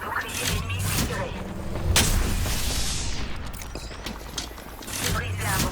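Mechanical clicks and ratcheting of a weapon reload in a shooter video game, heard close among continuous booming gunfire, game effects and a voice-like layer.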